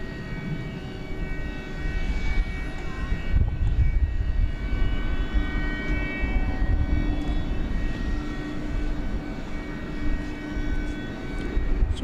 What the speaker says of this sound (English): we'll have to watch it take off from beyond the terminals, as we're about to do. With the MD-11.